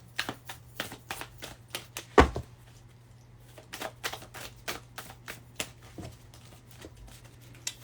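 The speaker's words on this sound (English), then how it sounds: "So we're going to shuffle these cards nice." Crisp, papery snaps and flicks of tarot cards being shuffled, arriving in irregular quick bursts, close up and fairly quiet, with no voices.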